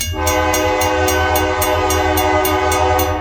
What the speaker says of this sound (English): KRR on the hot rails, known as the Kiamichi Railroad